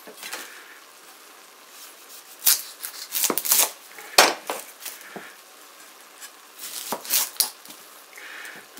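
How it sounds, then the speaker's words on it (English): A kitchen knife slices through an onion on a cutting board, making crisp, irregular chops and taps, some in quick clusters, with quiet pauses between them. "Nice cut to the onion there."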